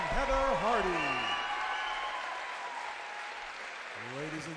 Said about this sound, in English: a round of applause, please, for two gallant warriors